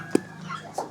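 Chickens cluck in short scattered calls against a quiet background, with a few brief squawks spread across the moment.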